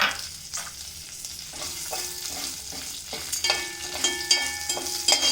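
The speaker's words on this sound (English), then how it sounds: "Now my jeera started spluttering." Cumin seeds splutter in hot oil as curry leaves go in, a busy crackling sizzle with sharp pops and stirring scrapes, loud and close, steady throughout with no talk.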